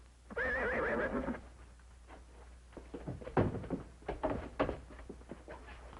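A horse whinnies loudly and close for about a second in an office setting, its wavering cry followed by scattered thumps and knocks.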